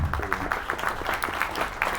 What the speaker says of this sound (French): pouvez applaudir